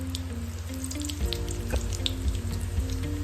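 Mustard seeds and cumin crackle in hot oil as a tempering for a spiced wet tur-pod amti, with soft popping ticks over a low, steady hum.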